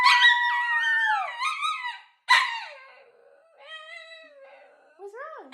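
A dog reacts after its owner barks at it, letting out high whining howls and squeaky yelps in several drawn-out bursts with short pauses between them, close and clear.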